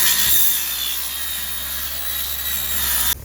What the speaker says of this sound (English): And there's my saw.